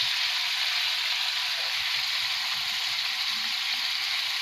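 Pork sizzling and frying in a pan, a loud, steady close hiss of hot oil that runs unbroken from start to finish with no talking.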